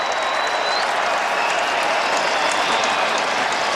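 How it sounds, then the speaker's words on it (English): A large crowd in the stands at a West Virginia Mountaineers versus Kansas Jayhawks college football game in Morgantown applauds loudly and without a break, a dense, continuous roar of clapping that fills the whole stretch. "Great crowd on hand."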